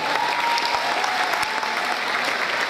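Audience applause fills a school competition results announcement at the Mohácsi Kisfaludy Károly school, a dense, steady clapping from a crowd of students, loud and continuous throughout with no voices on top.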